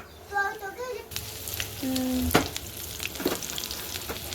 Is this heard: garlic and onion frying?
yes